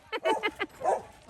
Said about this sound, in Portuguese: É um cachorro chato.